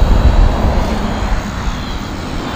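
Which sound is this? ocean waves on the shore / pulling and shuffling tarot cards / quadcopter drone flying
quadcopter drone flying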